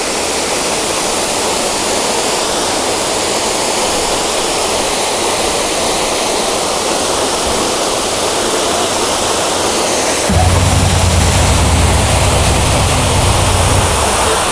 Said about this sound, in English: Here's a small waterfall right beside the road.